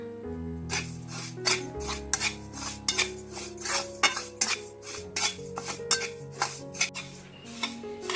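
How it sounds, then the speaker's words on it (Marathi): Sesame seeds roasting in a pan for til gud chikki, stirred with a metal spoon that clinks and scrapes against the pan in a quick, uneven rhythm, close and fairly loud, with no talking. "आपण तिळाच्या वड्यासाठी तीळ भाजून घेऊया."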